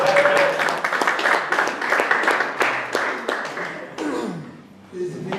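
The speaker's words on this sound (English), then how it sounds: "can we give Uncle Nish a round of applause?" A round of applause from the crowd at a cricket player draft at Old Grey Sports Club, with dense clapping for about four seconds that thins out as a voice comes in near the end.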